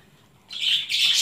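A red chicken gives a harsh squawk in two quick bursts, close and fairly loud, after a short quiet stretch in a backyard coop setting.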